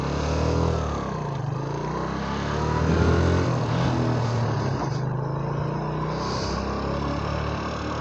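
A 125 motorcycle pulls away and accelerates, its mid-pitched engine droning steadily and loudly close by, with a slight swell in revs partway through and no talk.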